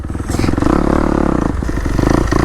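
A dirt bike rides a single-track trail at Murphys in Red Rock, its engine loud and close with a steady, throbbing drone while the tires clatter and scrape over rough ground.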